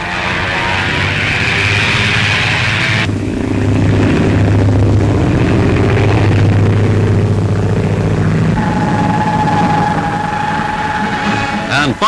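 A PBY flying boat's piston engines roar loud and steady during takeoff, a continuous propeller drone that shifts in pitch partway through and holds close throughout.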